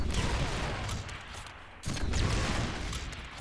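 Dense, sustained gunfire from the Deadpool video game, a steady barrage of rapid shots that briefly thins out before resuming at full loudness.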